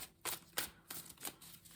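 Tarot cards being shuffled up close, a few quick riffling bursts in a loose rhythm, soft and brisk with brief gaps between them.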